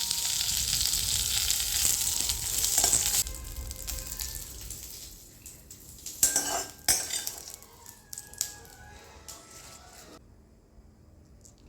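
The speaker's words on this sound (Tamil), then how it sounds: "இப்போ அதே கடாயில் கருவேப்பிலையை கொஞ்சம் எண்ணெய் விட்டு வறுத்துடலாம்" Curry leaves crackle and sizzle in oil in a kadai. The frying is loudest at first and fades while a utensil clinks and scrapes against the pan, ending almost quiet.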